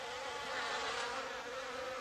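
Hornets buzz steadily around the hive of native honeybees, a dense, continuous drone of wings, fairly quiet and close, with no voices.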